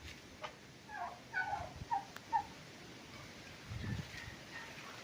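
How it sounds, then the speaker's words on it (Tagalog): Several short turkey gobbles burst out in quick succession at moderate distance, over quiet outdoor background with a little rustling. "may mga alagang pabo ngayon yung caretaker mga kaprops eh"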